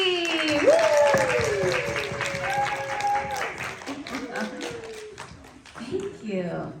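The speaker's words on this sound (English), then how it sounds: "let's give a big round of applause for Igor Stravinsky" Audience applause greeting a guest at a classical music conversation event, clapping running underneath a speaking voice and whoops throughout.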